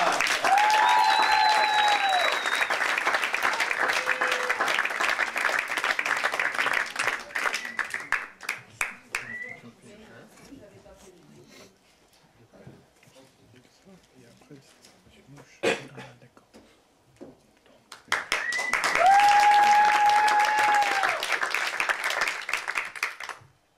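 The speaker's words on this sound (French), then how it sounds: "Refaites du bruit pour Saphir" A slam poetry audience claps and cheers loudly in a small venue, fades to scattered sounds and murmurs, then bursts into a second round of applause with whoops.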